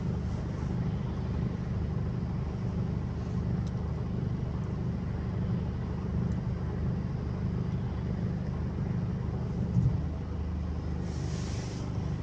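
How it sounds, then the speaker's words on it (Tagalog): Road traffic on a snowy winter road heading toward Brussels, a steady broadband rumble of passing cars heard continuously from inside a moving vehicle, with no talking. "Traffic."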